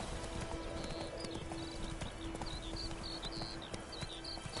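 Hooves of the horse Roach clip-clop at a steady galloping rhythm in The Witcher 3 video game, close and continuous, with birds chirping and a faint hum in the background.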